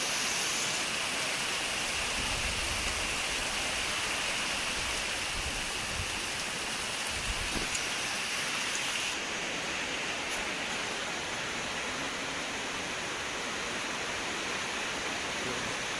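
Heavy rain falls outdoors near a tree, a dense, steady hiss that holds unbroken for the whole stretch with no clear voices above it.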